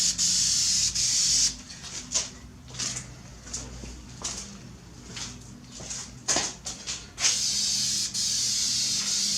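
A spray can of wrinkle paint hisses in long bursts onto a car engine intake, stopping and starting with short pauses and a few soft clicks and rubs between sprays.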